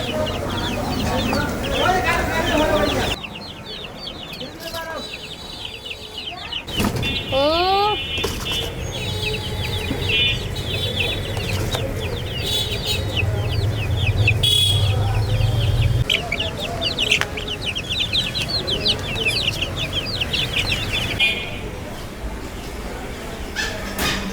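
Young broiler chicks cluck and cheep repeatedly up close while being moved into a cage on a veranda, with scattered handling noises and a person speaking intermittently in the background.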